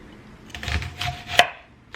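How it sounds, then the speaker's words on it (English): Knife roughly chopping beef stew ingredients on a board, several uneven close cuts with one sharp loud chop near the end, no talking. "Roughly chop this up."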